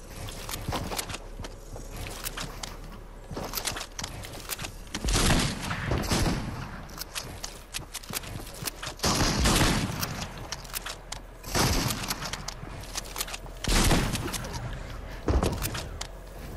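Bursts of gunfire from a weapon in the video game Fortnite, several loud broadband volleys spaced through the clip with busy game noise between them.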